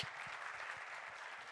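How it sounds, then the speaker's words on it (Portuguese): An audience claps together at the close of a panel discussion on AI and digital services, a dense, steady patter of many hands sustained at moderate volume throughout, with no voices rising above it. "Uma salva de palmas e todos para tirar a foto."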